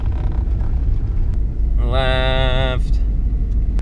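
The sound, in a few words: Subaru car turning at full lock in first gear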